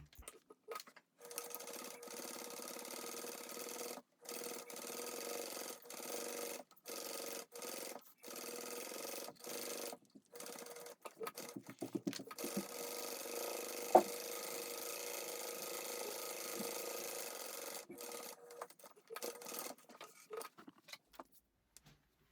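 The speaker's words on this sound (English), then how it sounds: "I'm going to just stitch down each side of my handle" Sewing machine stitching down each side of a handbag handle, running in short steady bursts separated by brief pauses, close and fairly quiet.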